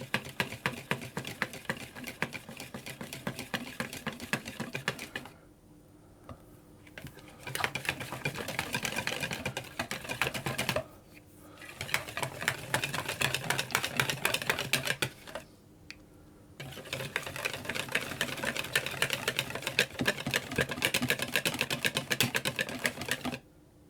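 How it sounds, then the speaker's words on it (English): A whisk beats eggs and milk into crêpe batter in a bowl, a fast, steady rattling that runs in long bursts with a few short pauses, close and moderately loud. "I'm going to whisk that until I have a smooth mixture"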